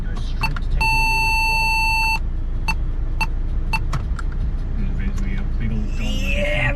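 Vehicle backup beeper sounding a steady, loud tone for a couple of seconds near a shed rebuild, amid clanks and knocks, with a person talking nearby.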